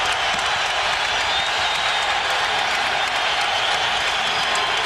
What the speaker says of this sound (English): And the crowd has come alive again